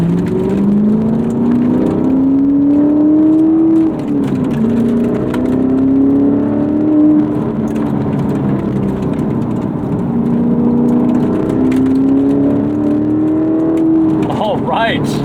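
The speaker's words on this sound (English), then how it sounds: "First impressions, we have that glorious American V8 rumble." A Corvette C7 Grand Sport's American V8 revs and drones in sport mode, pitch climbing and falling through several gear pulls, with someone talking over the steady engine note.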